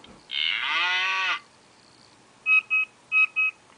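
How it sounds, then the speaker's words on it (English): A cow's moo plays as a safety-camera alert in the TomTom iPhone navigation app: one long synthetic bellow followed by two pairs of short electronic beeps, heard alone and clearly. "Now you've got the options of having sounds for your safety camera, as I was mentioning earlier on. So you've got a cow."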